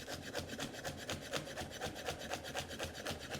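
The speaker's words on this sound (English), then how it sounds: "everything's got to be finely chopped." A knife finely chops on a board, a fast, even run of close, dry scraping taps that keeps going without a break, with no voices.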